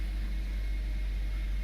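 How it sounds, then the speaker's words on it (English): A 2008 BMW 535xi Touring wagon engine idles smoothly, giving a steady, quiet low rumble with a faint even hiss above it, constant throughout with no voices. "engine idle, very smooth."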